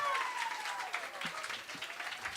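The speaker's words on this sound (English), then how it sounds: "you should also clap for Grace Givers one more time" Audience applause for performers at a Black artists' gathering, a faint, scattered patter of clapping over a fading tone, with a brief voice in the background.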